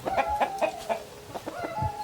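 Chickens cluck near a farm chicken house in a series of repeated, fairly close calls with a few brief pauses, set against outdoor ambience.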